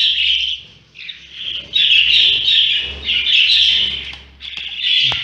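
Young purebred Mubiş pigeon chicks and other birds nearby give loud, close, high chirping calls in repeated bursts, with short gaps between them and a low steady hum underneath.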